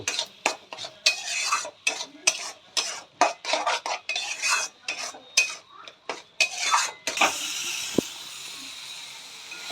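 Tomato paste fries in a pan for a prawn-paste and pointed-gourd dish, with rapid rhythmic scraping and clanking of a spatula stirring the masala over a soft sizzle, then the stirring stops and a steady hiss remains alone.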